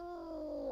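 A newly found cat lets out a single drawn-out, unhappy meow, close and fairly loud, holding a steady wavering tone throughout.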